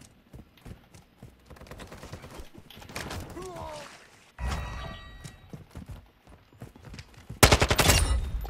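Gunfire in Modern Warfare 2 on the Mercado map: scattered shots and short automatic bursts at moderate distance, ending in a loud close volley, with a voice talking over the action.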